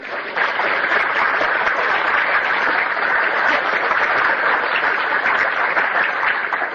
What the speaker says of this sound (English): So a round of applause, please.